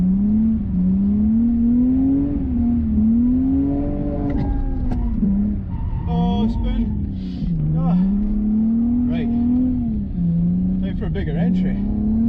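Lexus IS200 drifting with an open diff, its engine revving up and down in rising and falling sweeps, loud and close, with people talking and exclaiming over it.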